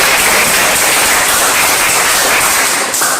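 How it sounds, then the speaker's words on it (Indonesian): Students applaud in a classroom, a steady, dense wash of clapping that stays loud and even for about three seconds before trailing off slightly at the end, with no talk over it. "Tepuk tangan dulu."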